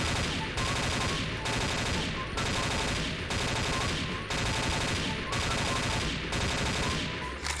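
Repeated bursts of gunfire from the online shooter game XSHOT, dense and loud with short gaps between bursts, heavy game sound effects throughout.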